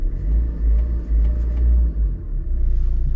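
A 2019 Tata Nexon diesel car engine runs at idle, a close, steady low rumble with a slight pulsing throb and no voices over it.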